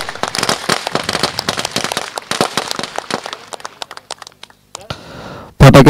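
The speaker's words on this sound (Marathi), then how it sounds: "फटाक्यांची आतिषबाजी आणि" A rapid volley of firecrackers at the opening ceremony of a Bhavani Nagar cricket tournament, sharp cracks bursting close and loud, thinning to scattered pops before a final louder blast.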